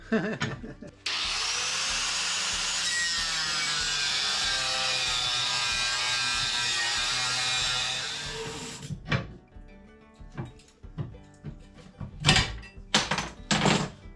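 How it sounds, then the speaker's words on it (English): A metal tab for a snow pusher mold board being cut at an angle with a power saw, a steady loud whine lasting several seconds, then clanks and thumps of handling metal afterward. "Cutting that on an angle because of the way this tab has to fit on the mold board."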